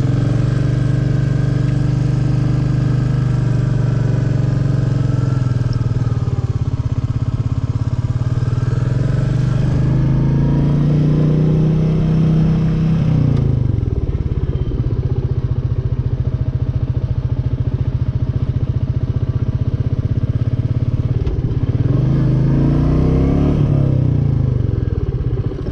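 A 2021 Royal Enfield Meteor 350 motorcycle engine thumps steadily nearby during slow practice riding, its low drone rising and falling with throttle changes as it circles around.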